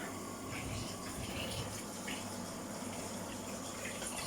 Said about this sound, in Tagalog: Tubig na.